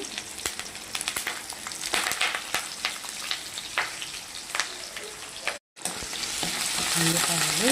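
Vadis, onions and curry leaves fry in oil in a pan, making a steady sizzle punctuated by scraping stirs and crackles, with a brief silent gap near the end.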